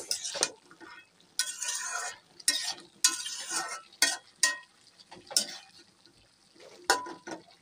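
Fresh tomatoes go into a pan of rohu fish curry cooked with flat beans, landing in short bursts of sizzling, frying hiss between quiet pauses, with a few clinks and stirring scrapes of a utensil against the pan.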